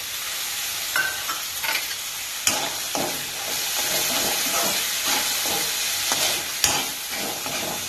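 Half-boiled green peas and tomato frying in a pan: steady sizzling hiss with occasional clinks and scrapes of a stirring utensil, close up and without talk.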